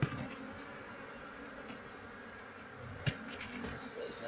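Honey bees buzz in a steady, faint drone around a hive being scraped and moved, with a couple of brief knocks standing out.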